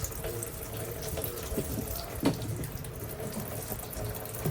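Petrol dribbling and splashing out of an old Mercedes, a steady close trickle like a running tap with a few small drips and knocks, no talking.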